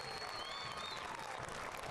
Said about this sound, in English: that's met by a round of applause from the fans here at Toyota Stadium